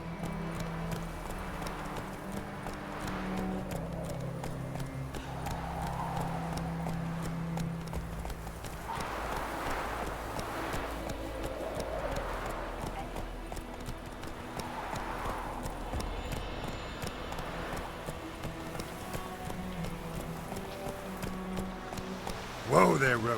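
A horse in The Witcher 3 on Nintendo Switch trots with steady, rhythmic hoof clip-clop under game music, with voices speaking over it.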